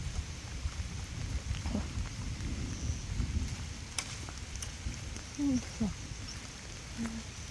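Soft steady rain patters in the background, with a faint rumble and a few scattered bumps and knocks.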